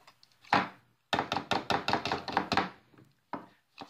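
Pumpkin seeds are diced for bread with a knife on a cutting board: a rapid run of crisp, close chops in an even rhythm, preceded by a single chop and followed by a few scattered taps.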